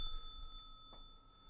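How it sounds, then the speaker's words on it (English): A single light bell ding, sounded once during a trivia game, quick and fairly faint over a low background hum. "whoever has the answer will ring the bell first"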